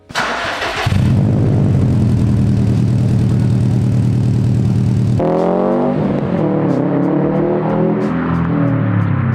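A 500 hp Subaru engine fires up, settles into a loud, rough idle, then revs repeatedly with rising and falling throaty roars through a Noble titanium single-exit exhaust, close and alone.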